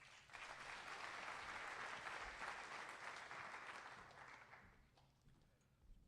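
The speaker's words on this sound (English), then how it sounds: "Let's give Taylor a round of applause." Applause from the audience at an agricultural program's spring banquet swells into dense, even clapping, holds for several seconds, then thins out and fades to a few scattered claps near the end.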